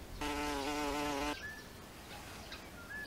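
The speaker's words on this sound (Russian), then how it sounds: "Это шмель, разновидность пчелы." A bumblebee, a kind of bee, buzzes loudly and close for about a second with a steady droning hum, then fades away, leaving faint background noise with a few thin chirps.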